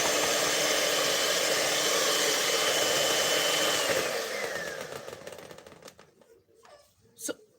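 An electric mixer runs on very low speed through red velvet cake batter, giving a steady dense whir that fades out after about four seconds, followed by a few faint clicks and knocks.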